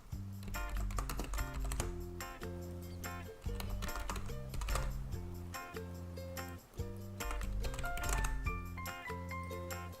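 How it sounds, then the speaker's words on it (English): Rapid clicking of computer keyboard typing sits close to the microphone, running steadily beneath loud, continuous background music with a tonal melody. "all the time that you guys heard me typing, because I know you can hear me, the mic is right next to it"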